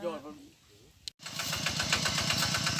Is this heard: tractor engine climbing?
yes